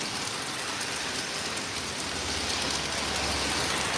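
Steady, dense rain patters on the streets of Paris as a continuous close hiss of drops, unbroken and even throughout, with no voices.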